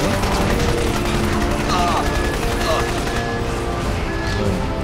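Machine gun fire from the video game Crysis Warhead, dense and continuous with other battle noise, under someone talking throughout.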